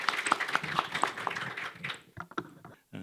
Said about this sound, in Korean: 박수로 좀 맞아주시기 바랍니다